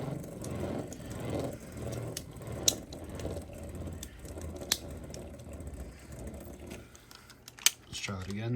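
Light ratcheting clicks from a Scorpio Spear spinning top launcher, faint and close, with a few sharp louder snaps amid soft mechanical rattling and background murmur.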